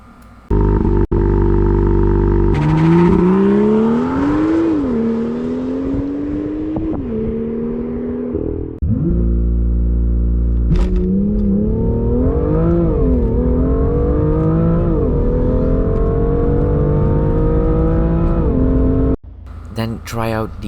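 A used car's engine is revved hard during a throttle response test, with loud, close revs that climb and fall repeatedly for about twenty seconds before cutting off near the end.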